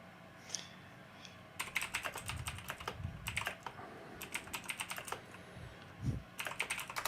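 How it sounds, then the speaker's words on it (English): A computer keyboard is typed on in quick clustered bursts of clicks separated by short pauses, fairly close against a low background hum. "I just heard you typing."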